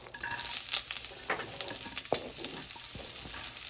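Chopped celery sautéing in butter, a steady close sizzle broken by scraping stirs and occasional sharper spatters.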